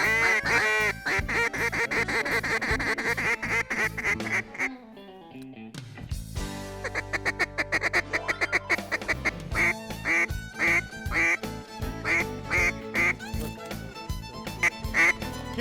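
Mallard ducks in flooded timber in Kansas give rapid, loud, repeated quacks, some clusters sounding like a duck call, with a brief quieter gap midway before the calling resumes strongly.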